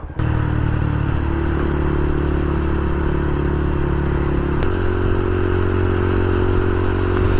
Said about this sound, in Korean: 오늘 이렇게 또 에이프를 타고 이렇게 나왔습니다